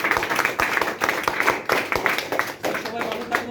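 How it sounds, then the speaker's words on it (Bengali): An audience claps loudly and steadily at a Bengali motivational lecture event for people going abroad, with the dense applause running under a voice throughout. "তাদের জন্য একটা জোরদার করতালি।"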